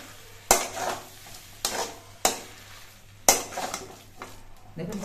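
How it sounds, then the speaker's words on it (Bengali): A spoon stirs banana stem curry with ghee and garam masala in a pan, the stove already off, giving five sharp scraping strokes with a soft sizzle fading between them, close and fairly loud. "এবার ঘি আর গরম মশলা দিয়ে নেড়ে চেড়ে মিশিয়ে নেব।"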